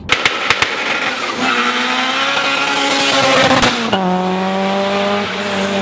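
A car launches hard with a dumped clutch, its engine revving loudly as the tires squeal in a rising, sustained screech that shifts pitch partway through, close by after a few sharp knocks at the start.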